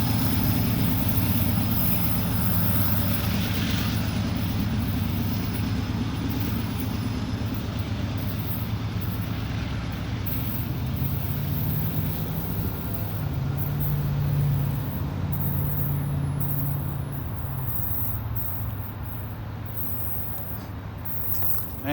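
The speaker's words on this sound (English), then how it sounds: "the train's going by with those engines just roaring like that, going up the hill" Heavy freight train locomotive engines labouring up a hill while sanding the rails, a loud, sustained diesel roar with deep rumbling and grinding as the train passes close by, continuous throughout with no talking.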